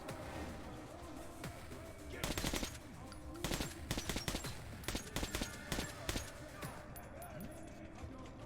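Gunfire rings out in the game Metro 2033 Redux as rapid, loud bursts of automatic shots arrive in short clusters over quieter ambience, with sharp crackling reports repeating every second or so.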